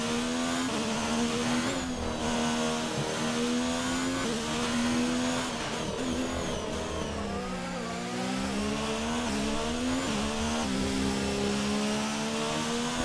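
Formula 1 car accelerating in the F1 2019 video game during an Australian Grand Prix at Melbourne, its engine a continuous loud, high-pitched whine that rises and falls through repeated gear shifts across the whole stretch, with no voices.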